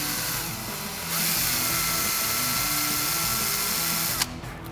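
A power drill bores a pilot hole into old plastic of a car dashboard, whirring steadily for several seconds at close range, then stopping abruptly with a short clack.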